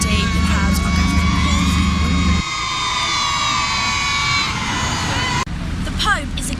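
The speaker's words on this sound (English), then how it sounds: "already the crowds are gathering" A crowd gathers along Hagley Road ahead of the Pope's arrival, a steady outdoor babble of voices with scattered shouts and cheers under someone talking.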